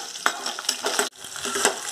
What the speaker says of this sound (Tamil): பச்சை மிளகாய், இஞ்சி, பூண்டு. இது நல்லா வதங்கட்டும்.